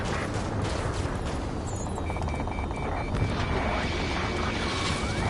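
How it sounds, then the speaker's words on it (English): Rapid bursts of gunfire crackle over a low rumbling roar, with a thin whine of jet engines in a chaotic city battle soundscape from the video game Ace Combat 7. "Gunfire and the roar of jets echoing through the streets"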